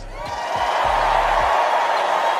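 Crowd at the RNC convention cheering and whooping in support of Israel, a broad roar swelling and holding steady, loud, with some voice at the start.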